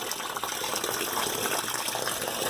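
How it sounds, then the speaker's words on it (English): Water gushes steadily into a Maytag Bravo top-load washing machine during a fill cycle, a continuous close hissing rush with no talk. "Looks like we're gonna get another dose here."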